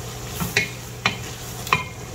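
Ground beef and Italian sausage sizzle in a pan, with three sharp scraping stirs of a utensil spaced through a steady low frying hiss, close and moderately loud with no talking.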